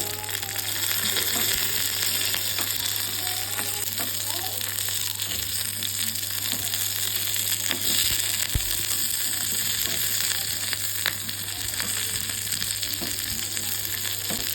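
Curry leaves sizzle as they are added to Kerala-style beef gravy and stirred in a pan, giving a steady close frying hiss with faint scraping of the stirring throughout, and no voice over it.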